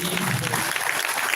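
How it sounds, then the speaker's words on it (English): Audience applause after a presentation at a livestreamed event, a brief burst of clapping mixed with voices. "we ask you to give him a round of applause"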